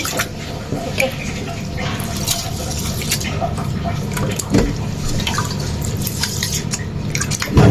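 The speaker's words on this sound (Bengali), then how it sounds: "এখানে আমি হলো রাত্রির জন্য চাল ধুয়ে রাখবো" Water drips and trickles as rice is rinsed in a home kitchen, giving a steady run of small splashes and patters at close range with no talk.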